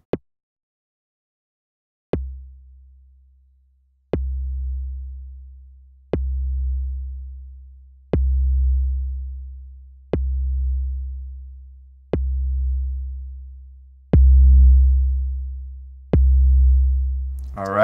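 A synthesized 808 kick drum with a long decay strikes eight times at steady two-second intervals, each a deep booming thump that rings out and fades, loud and alone.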